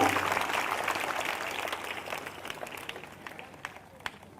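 Congregation clapping at a Sunday evening church meeting, a dense wash of applause from a crowd that gradually thins and fades, with a few scattered claps standing out near the end.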